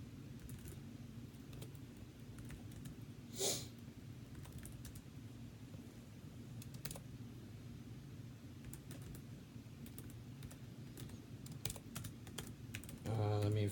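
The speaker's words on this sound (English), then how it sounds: "finish typing this right here." Steady clicking of keys on a computer keyboard over a constant low hum, with a brief louder clatter partway through.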